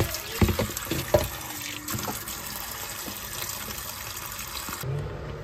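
Running water splashes while something is rinsed by hand during home preparation of coconut chira, with a steady faint flow broken by a few louder splashes and clatters before it suddenly stops.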